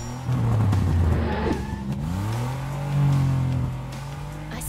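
Cartoon party cruiser car driving, an engine revving up and down in pitch with accelerating swells, fairly loud and close with no talking.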